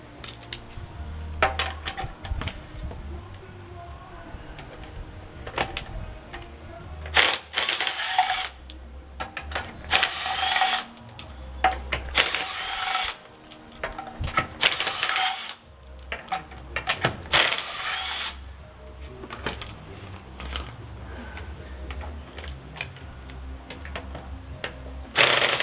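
A battery-powered drill spins lug nuts off a tire during a winter or snow tire change, with repeated short bursts of whirring and ratcheting, separated by pauses and metallic clinks of nuts dropping.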